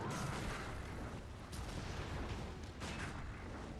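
Dense enemy gunfire in the video game Bloodborne, a continuous loud barrage of shots and bursts with a few sharper cracks standing out, filling the whole stretch without a break.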